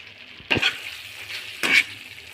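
Clam (khube) masala frying in a pan over a low flame, with a steady soft sizzle and two brief louder bursts of stirring scrapes, close and with no one speaking.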